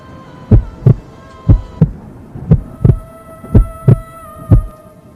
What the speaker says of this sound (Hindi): दिल जोर जोर से धड़कता है